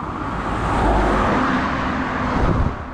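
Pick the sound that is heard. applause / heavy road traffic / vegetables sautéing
heavy road traffic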